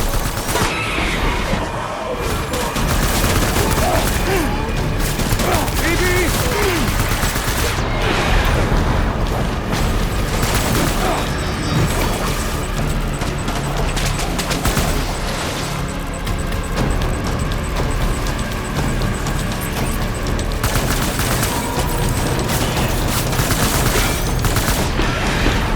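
Gunfire in the video game Death Stranding: dense, loud bursts of shots and booms pile up continuously amid mechanical clatter and game noise for the whole stretch.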